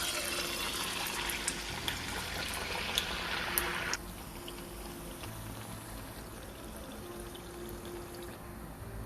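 Ariselu, a sweet rice-flour disc topped with sesame seeds, frying in hot oil, giving a steady dense sizzle and bubbling that drops to a quieter, lower fizz partway through, with no talking.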